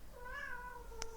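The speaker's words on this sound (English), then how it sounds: "they're really having fun. Just running around, playing tag, wrecking everything in their path, because that's just what cats do." A playful house cat gives a single drawn-out meow, fairly quiet, against a faint background hum.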